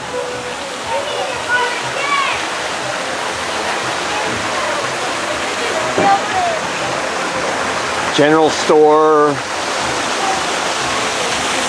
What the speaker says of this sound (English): Always enjoy waterfalls.